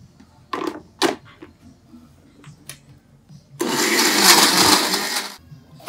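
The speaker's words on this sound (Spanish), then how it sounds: "Y vamos a licuar." A blender whirs loudly for about two seconds, blending rehydrated mirasol chiles with tomatoes, preceded by a few clunks and knocks as the jar is loaded.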